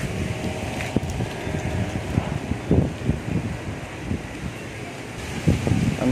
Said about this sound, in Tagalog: Malakas na rin yung hangin niya.